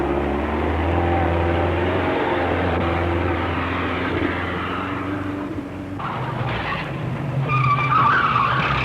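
A 1934-era tow car engine drones and its tires skid as it drives off, a sustained loud mechanical roar that shifts into harsher, noisier tire squeal toward the end.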